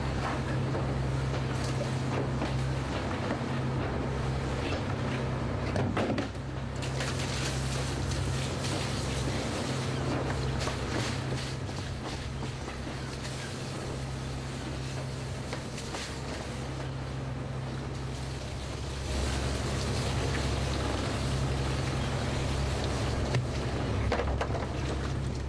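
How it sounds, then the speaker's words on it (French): Fishing boat from Loctudy, Brittany, under way to port on a red mullet trip, its deck washed by a hose fed from an engine-driven seawater pump; a steady engine drone runs throughout with wind and water rushing over it, with no talk. "le lavage du pont à la manche à eau, un système de pompe d'eau de mer branché sur le moteur"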